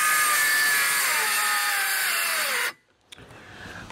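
A battery-powered saw whines loudly as it bogs down trying to cut quarter-inch plywood for a hutch repair, its pitch sagging under load before cutting out abruptly, followed by quiet rustling.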